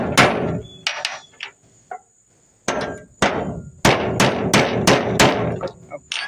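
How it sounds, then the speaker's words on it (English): A hammer strikes a punch to drive the fastener out of a shovel handle, giving a string of loud, close metallic blows in uneven clusters with brief pauses between. "If you don't have a punch, you can use a great big nail or a small bolt or something like that to try to punch that out the other side."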